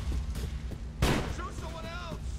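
A sharp burst of gunfire in the video game GTA The Lost and Damned rings out mid-clip, loud and close over a bed of game noise, with faint tonal whines trailing after and a voice shouting nearby.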